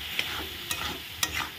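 Fried potatoes are stir-fried with spices, with three distinct spatula scrapes against the pan at a fairly even pace over a faint background sizzle.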